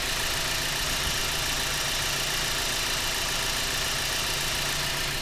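A Mazda CX-7 engine idles at a steady rough hum around 900 rpm, close and continuous, with no voices over it.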